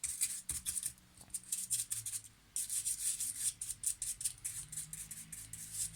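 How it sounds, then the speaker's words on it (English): Sand is sprinkled and brushed over the base of a wire tree model, making soft gritty rustling and scraping in short repeated bursts, quiet and close, with a brief pause partway through. "I think I'm going to put some sand over to make it more realistic."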